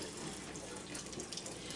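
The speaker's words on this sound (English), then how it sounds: "And so you're just gonna pour your water." Water is poured from above into a container of fruit, a steady rushing splash that runs throughout, fairly close and moderately loud, with no talking.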